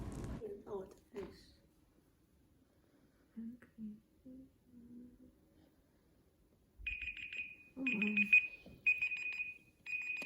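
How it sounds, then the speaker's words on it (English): An experiment timer alarm goes off after a 20-second memory trial, sounding as repeated bursts of loud electronic beeping near the end, following quiet talk earlier on. "After the 20-second timer has called"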